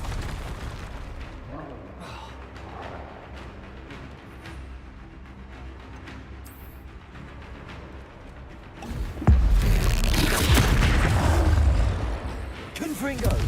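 Fire-blast spell explosions in the Hogwarts Legacy video game erupt as a loud booming burst with a sustained roar, following a stretch of quieter magical rumbling and clatter.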